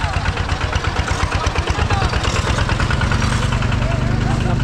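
A motorcycle engine runs loud and close on a mountain outing to a waterfall, chugging steadily with rising revs; a person's voice is heard over it.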